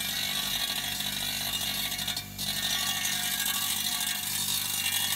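Mechanism of a three-plane wheel balancing machine auto-screwing the wheel, giving a steady, dense mechanical ratcheting whir that runs continuously at close range with one brief dip midway, no voices.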